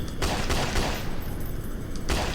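Rapid gunfire aimed at zombies in a video game crackles as several loud, close shots in quick succession over dense game noise.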